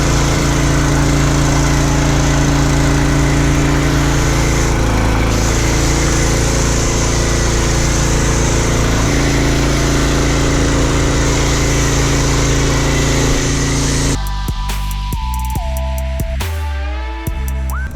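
A foam cannon sprays car wash soap over a car, loaded with far more soap than the four capfuls called for, while a small engine drones steadily and loudly throughout; near the end the drone breaks off into a few short sputters and shifts.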